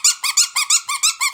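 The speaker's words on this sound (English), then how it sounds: "She loves squeaky toys" A whippet's squeaky toy squeaks in a fast, even run of about eight loud, close, high-pitched squeaks, one after another, with no talking.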